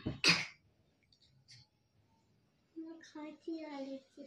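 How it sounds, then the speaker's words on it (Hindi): A single sharp cough near the start, then faint rustling and a pause before a person begins talking. "देखा मैंने कैसी खांसी आई थी"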